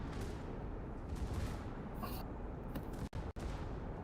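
Warship secondary guns in a naval video game pound away in a dense, continuous barrage of booms and crackles over a rumbling din, with a couple of sharp momentary cutouts near the end.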